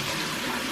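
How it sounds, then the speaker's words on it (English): Water running from a tap and splashed onto a face during a morning skincare routine, a steady broadband rush filling the short moment, close and fairly loud with no talking. "Water on our face."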